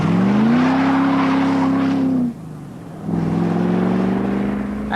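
MG MGB sports car with a 3.5-litre engine accelerating hard, a loud rising engine note that cuts off abruptly for a gear change, then climbs again steadily near the microphone.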